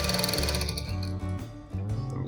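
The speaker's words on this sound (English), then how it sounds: "So now I'm going to start the sewing from here also." A sewing machine stitching a fabric nose mask with elastic inside: a rapid, close mechanical whirr of the needle that pauses briefly twice and restarts.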